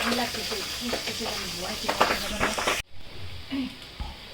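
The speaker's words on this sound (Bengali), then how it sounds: "পাবদা মাছে নাকি তেল ছেটে অনেক ফুটছে" Pabda fish sizzles in hot oil with crackling spatters, while voices talk over the frying; the sizzle drops away abruptly near the end.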